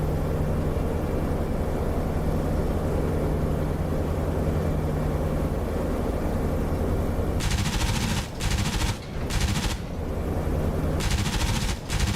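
A P-47 fighter in a DCS World War II flight sim drones under steady engine roar, then its machine guns open up in several loud, short bursts near the end.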